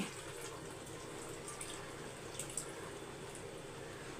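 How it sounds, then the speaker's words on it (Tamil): Tamarind water poured into a pot for a dried-fish kuzhambu, a steady soft splashing stream with a few faint drips, close and unbroken by talk. "இப்போ வந்து புளி தண்ணி ஊற்றிக்கலாம்"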